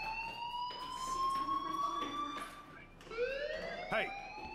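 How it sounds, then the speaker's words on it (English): A fire alarm in the video game Life is Strange sounds as a shrill, steady electronic tone with rising and falling sweeps. It rings loud and continuous, with a brief dip and restart near the end. "Hey, do you hear that fire alarm?"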